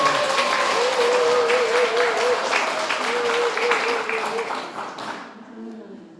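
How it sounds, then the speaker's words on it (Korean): A congregation at a Won Buddhist temple claps in encouragement, dense steady applause with a voice speaking over it, then the clapping dies away abruptly near the end. "힘내라고 박수 한번 쳐주시면"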